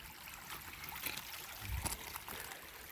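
In Missouri woods off the Salt River, a small feeder creek trickles and gurgles, a steady low wash of running water with a few slightly louder splashy moments, and no one speaking.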